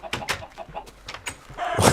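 A Minecraft chicken clucking, a quick series of short choppy clucks over about two seconds, close and moderately loud, ending in a brief burst of noise.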